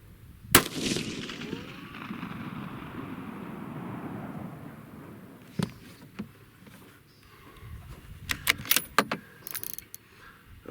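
A single sharp rifle shot cracks close by during a test of a Feyachi 6-24x50 budget scope, followed by a long outdoor rumble and later scattered clicks and handling knocks of the gun.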